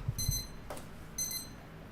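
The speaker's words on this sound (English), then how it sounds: "Sorry about that, my alarm went off." An alarm clock goes off with two short bursts of high electronic beeping, separated by a quiet gap, with faint background rumble underneath.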